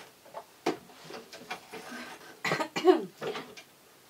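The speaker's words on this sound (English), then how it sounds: "This isn't even fluffy, but it's making me cough." A few short, sharp coughs sound close by in an otherwise quiet room while sewing a fabric hot water bottle cover, with small scattered handling noises between them.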